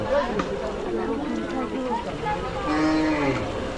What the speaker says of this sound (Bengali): একটা বড় গরু আছে বিশাল দেহের একটা গরু আছে এখানে